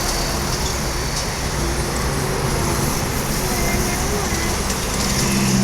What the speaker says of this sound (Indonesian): Ada penampakan bus dari arah terminal